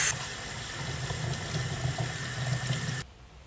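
Water runs from a tap over partly defrosted pork in a kitchen sink, a steady close splashing rush that cuts off abruptly near the end.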